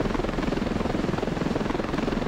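Helicopter flying in the military sandbox game Ravenfield, a loud, steady, rapid thumping of rotor blades with engine whine, continuous and close throughout, with no talking.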